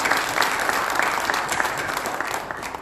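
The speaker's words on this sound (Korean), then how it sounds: "우리 하나님께 영광의 박수 한번 해봅시다" A church congregation at a 2021 New Year district gathering gives steady, dense applause, a broad wash of many hands clapping together at close range with no voices over it.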